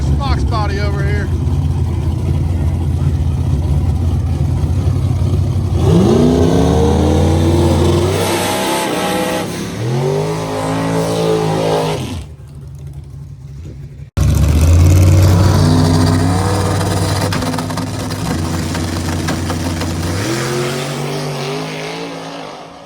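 A nitrous Fox body Mustang launches at a no-prep Extreme Street drag race, its engine revving up in loud, rising bursts, then roaring hard past nearby.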